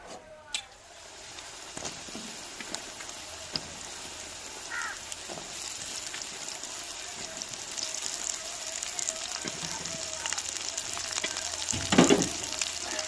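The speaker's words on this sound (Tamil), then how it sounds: "நம்ம வெட்டி வச்ச வெண்டைக்காய் இந்த எண்ணெயிலே வதக்கி எடுத்துக்கிறோம்" Chopped okra and onion sautéing in oil make a moderate, steady frying sizzle. Scattered clinks of stirring sound over it, and a louder burst of scraping comes near the end.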